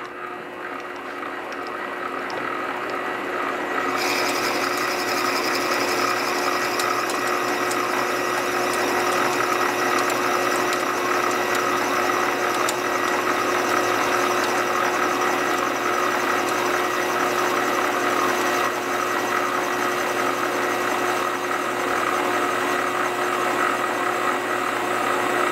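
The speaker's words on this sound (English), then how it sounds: "Let's get that hole drilled." Steady, continuous whine of a lathe drilling a hole in a brass shank for a hammer project, a sharper drilling tone joining the motor hum after a few seconds and holding to the end.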